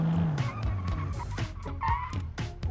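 Tires squeal and skid as an older luxury car brakes hard in BeamNG.drive, with several sharp screeching bursts and engine noise close up.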